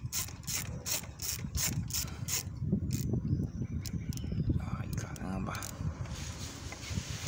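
A ratchet clicks rapidly and evenly while loosening a large brake caliper bolt on a Yamaha Crosser 150 motorcycle, followed by rattling and scraping of metal parts, close up.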